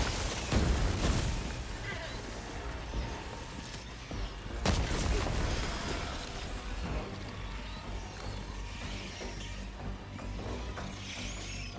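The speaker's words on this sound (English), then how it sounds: "Throwing grenade!" A grenade blast in Helldivers 2, heavy booming explosions within loud continuous battle noise, with a couple of sharp impacts standing out and people talking under the din.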